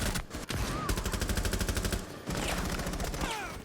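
Rapid automatic gunfire in Rainbow Six Siege, a dense, loud string of shots running almost the whole time with a brief gap midway, close and continuous with no talk over it.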